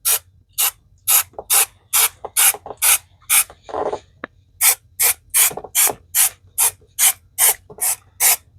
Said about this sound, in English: It's going to spray right through that cloth.